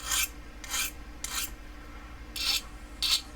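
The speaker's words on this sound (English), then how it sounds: "We take a round file or a round sharpening rod, and we can just work it like so." A round file rasps along the blade of a Mossy Oak Mini folding pocket knife in five separate, close scraping strokes with short pauses between them.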